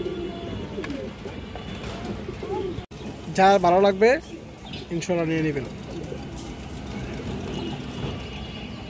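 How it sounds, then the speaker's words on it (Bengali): Army pigeons coo in low, throaty rolling bursts close at hand, while someone talks throughout over the steady cooing. "এগুলো পিওর আর্মি কবুতর দর্শক"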